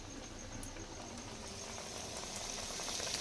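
Coated raw banana cutlets fry in oil with a soft, bubbling crackle that stays fairly quiet and even, rising slightly toward the end, with no talking.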